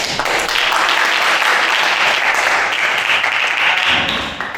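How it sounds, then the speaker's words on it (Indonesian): A crowd claps steadily and loudly for a student group after their presentation in a classroom, dense applause holding for several seconds before tapering off. "Kita beri aplaus kepada kelompok 3"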